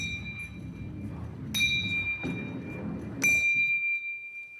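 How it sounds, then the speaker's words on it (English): Three clear metallic dings ring out at spaced intervals over a low rolling rumble of a rolling ball striking bells, each chime lingering briefly before the next. "we should hear the bells ringing at equal intervals in time"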